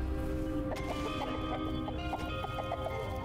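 Turkeys raised in a farm area in the video game Dungeons 4 cluck in a run of short, repeated calls over a steady low game background hum.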